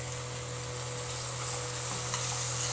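Raw prawns fry in a pan, an even, steady sizzle running throughout at close range alongside a low constant hum, with a faint scrape near the end and no speech.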